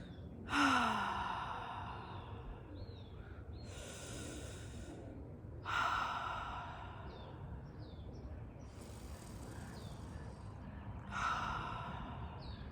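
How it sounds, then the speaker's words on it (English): Slow, deep breaths taken together in a guided breathing exercise, three long inhale-exhale cycles spaced about five seconds apart over soft background noise. "let's breathe together"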